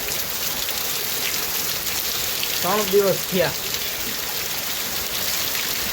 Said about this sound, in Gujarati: રાણપર ગામમાં સતત આજ ત્રીજો દિવસ છે વરસાદ ચાલુ છે